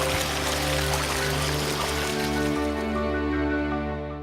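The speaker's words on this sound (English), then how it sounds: "That's the sound of a working water feature." A working water feature at a community swimming pool trickles and splashes steadily under a constant low mechanical hum, with no voices over it.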